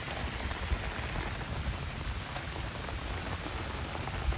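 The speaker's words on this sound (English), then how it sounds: "We haven't seen rain like this out here." Heavy rain pours steadily onto a pond, a dense, continuous close hiss and patter with no breaks and no voices.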